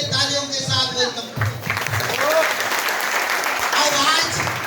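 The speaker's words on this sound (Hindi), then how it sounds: "एक बार जबरदस्त आप लोग के लिए तालियों के साथ वेलकम" Audience applause welcoming guests at a crowded Safe Shop gathering, a sustained wash of clapping with a host's voice talking over the start and crowd noise throughout.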